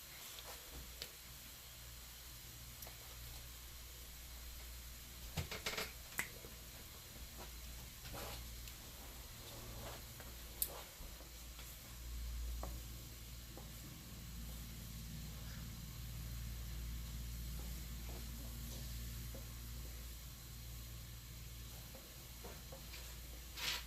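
Hot water with melted wax boiling, a steady low bubbling hiss and sizzle with scattered ticks and pops, continuous and fairly faint throughout.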